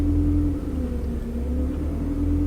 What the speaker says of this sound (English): the engine's hunting, it's in limp home mode, failsafe engine mode